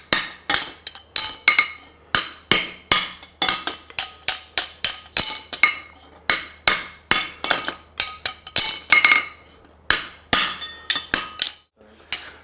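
Rapid, ringing hammer strikes at an anvil while stamping nail holes into a French hind horseshoe, a dense run of sharp metallic hits in bursts with brief pauses, close and loud with no voices.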